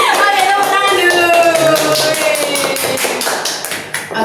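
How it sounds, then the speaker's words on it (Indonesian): A group of students claps hands together in a classroom counseling session, a dense, steady burst of applause lasting several seconds, close and loud, fading slightly at the end with some voices mixed in. "Oke, tepuk tangan dulu."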